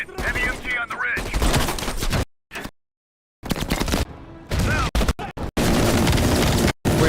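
Heavy machine gun fire in Call of Duty Cold War, loud rattling bursts and blasts broken by abrupt silent cuts, with voices talking among the shots.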